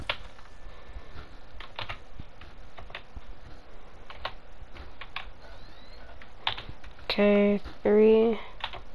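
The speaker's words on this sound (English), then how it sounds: "This keyboard is so loud." A loud computer keyboard clatters with quick, irregular key taps close by while a person speaks briefly.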